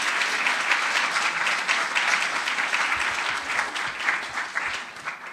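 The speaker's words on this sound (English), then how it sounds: "So let's give the staff a round of applause." A large audience gives sustained applause for staff at an academic keynote gathering, a dense, even wash of clapping lasting the whole stretch with no talk over it.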